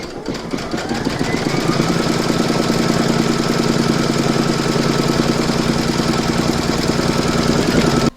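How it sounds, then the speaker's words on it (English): Embroidery machine stitching a hoop for a mandala notebook cover, with a loud, rapid mechanical chatter that runs continuously and close up for about eight seconds and no talking. "Pop your hoop back into your machine and stitch round number 2 to secure it."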